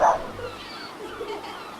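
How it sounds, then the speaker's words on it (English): One short dog bark at the very start, followed by a quiet, steady background hum. "Scamp barked at the waves."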